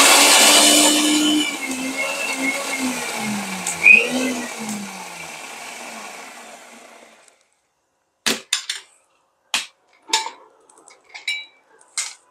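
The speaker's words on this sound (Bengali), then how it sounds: "আমার ব্লেন্ডারটা এত সাউন্ড হয়" Kitchen blender running loudly for about seven seconds with a whirring, rising and falling motor roar, then stopping, followed by several sharp clinks and knocks of dishes and utensils.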